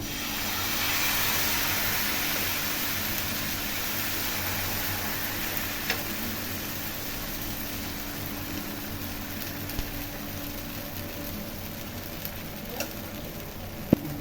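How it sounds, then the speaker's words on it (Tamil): Dosa batter poured onto a hot oiled pan gives a steady, even hiss and sizzle that carries through the whole stretch, with a few faint clicks on top and no voices. "இப்போ தோசை ஊற்றிக்கலாம்"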